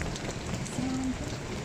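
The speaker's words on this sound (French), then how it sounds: "Il pleut" Rain falls steadily outdoors, a soft, even hiss of drops with no talking, quiet and continuous throughout.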